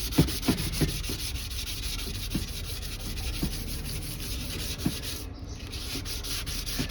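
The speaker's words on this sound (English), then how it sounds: "That sandpaper's filling up quick." Sandpaper rubbing over a 2004 Jeep Grand Cherokee grille, a continuous close, even scratchy hiss with faint taps from the hand shifting on the part.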